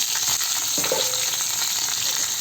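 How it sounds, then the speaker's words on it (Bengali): Radish and potato fry in hot spiced oil tempering in a wok, a steady, close sizzle with a brief clink of a utensil partway through. "এটা এখন কড়াইয়ে যেহেতু ফোড়নটা দিয়েছে এটা একটু ভাজা হতে হতে এই দুটো দিয়ে দেবো"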